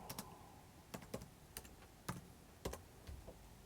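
Fingers tap short bursts of keystrokes on a laptop keyboard, quiet close clicks in small irregular clusters with pauses between them.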